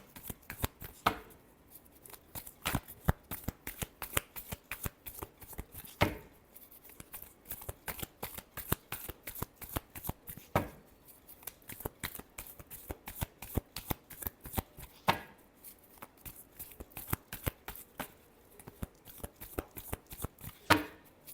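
Tarot cards are shuffled by hand over and over in a steady, fast riffling rhythm, the clicks coming close and crisp with short pauses every few seconds, and no voice is heard.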